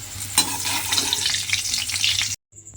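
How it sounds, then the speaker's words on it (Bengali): Potatoes frying in hot oil, a steady bright sizzle with occasional stirring clatter, close by, ending abruptly with a brief quiet tail. "দেখুন এইভাবে আলুটাকেও কিন্তু ভেজে আলাদা করে তুলে রেখে দেব"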